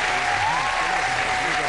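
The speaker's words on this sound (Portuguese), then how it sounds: "Então, as palmas são para Silvio Santos." Steady, dense applause from a live telethon audience greeting Silvio Santos at Teleton 2011 on the SBT stage, filling the whole moment without a break, with a faint tone humming beneath it.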